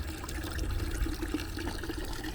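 Water draining from the valve of a shop-built 1,000-gallon crude oil tank, a steady close rushing and trickling flow with no break, alone without talk.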